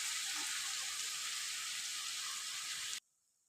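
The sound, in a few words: cabbage and potato frying in oil under a lid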